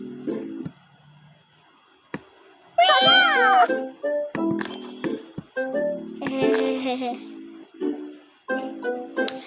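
Cats meow repeatedly, several drawn-out rising and falling cries close by, with people talking and laughing in between.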